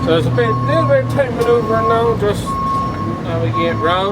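Reversing beeps from a tractor and loader while picking stones, a steady repeating tone sounding through the clip over engine rumble, with someone talking throughout.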